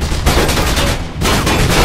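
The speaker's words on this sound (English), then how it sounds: "Stop shooting up my elevator." Dense, continuous video-game gunfire from Mirror's Edge strikes an elevator, a loud, nearly unbroken barrage with one brief dip partway through and no talk over it.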